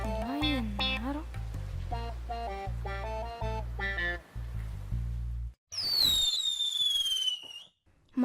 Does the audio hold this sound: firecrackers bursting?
yes